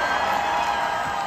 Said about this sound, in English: Let's have a round of applause for Jen Herpes.